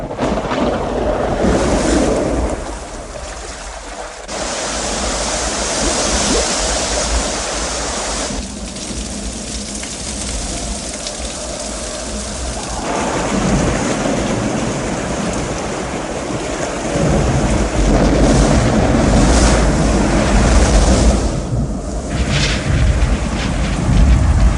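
Loud, continuous roar of rushing water portraying a great deluge inside the Living Seas attraction at EPCOT, Walt Disney World, 1997, surging and swelling over about 25 seconds with no talk.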